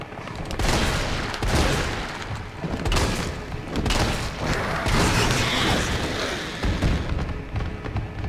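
Heavy gunfire in Resident Evil 3 Remake, repeated loud booming shots and thuds in a continuous barrage, close and dominant with almost no talk.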